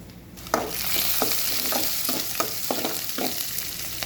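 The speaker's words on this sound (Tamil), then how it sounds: "வெங்காயம் வதங்கிட்டு முட்டைகோசு சேர்த்துருக்காங்க. நல்லா கிண்டி விட்ருக்காங்க." Shredded cabbage fries with onions in a pan for a Tamil cabbage poriyal, a constant bright sizzle broken by about eight sharp, regular spatula scrapes and stirs close by, with no talking.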